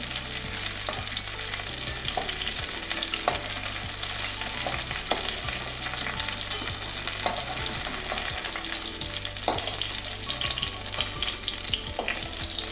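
Cauliflower and potatoes fry together in hot oil, a steady close sizzle running throughout, broken by regular scraping and knocking of a spatula stirring the pan.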